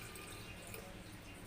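Warm drinking water fills a bottle indoors, giving a faint, steady trickling hiss throughout.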